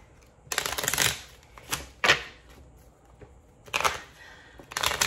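Tarot cards shuffled by hand in several quick riffling bursts separated by short pauses, close and fairly soft, with no talking.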